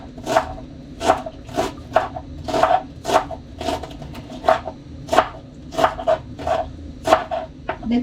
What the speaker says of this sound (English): I can start chopping it.